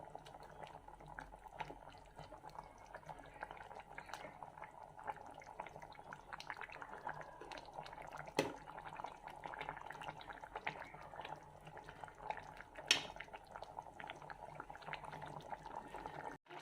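A pot of fish curry with tomato and peas simmers quietly, a faint continuous bubbling with occasional small pops and clinks, no talk over it.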